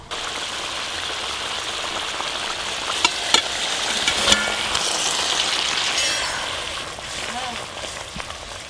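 Fried chela fish slide into a boiling fish curry broth, a busy close bubbling and frying crackle with stirring clinks of a utensil on the pot, continuous throughout.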